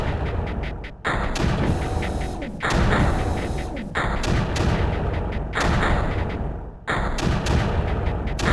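Mortar fire in the strategy game Creeper World: a loud series of heavy, booming thuds, about five shots spaced roughly one to two seconds apart, each trailing into a rumbling decay.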